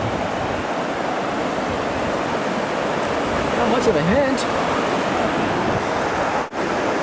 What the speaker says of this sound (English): see this beautiful water and these rushing rapids?